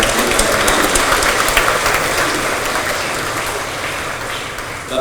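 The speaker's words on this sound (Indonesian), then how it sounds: "Tepuk tangan untuk santri-santri kita" A ceremony audience marking Hari Santri applauds the santri who represented DKI Jakarta at the Madrasah Olympiad, a broad, sustained roar of many hands that stays loud and slowly eases off.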